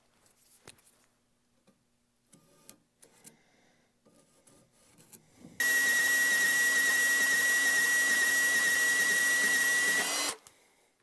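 A cutting tool works through steel angle for a grapple build, a steady, loud high-pitched whine with a bright tone lasting several seconds after some quiet clanks and shop handling noises.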